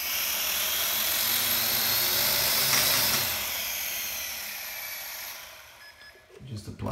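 The motors of a Sky Viper v2450 GPS drone spin up under throttle with a loud, close, high-pitched whine that holds steady, then eases off near the end.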